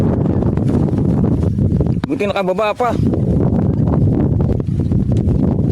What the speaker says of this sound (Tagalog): Ang lakas ng hangin, sobra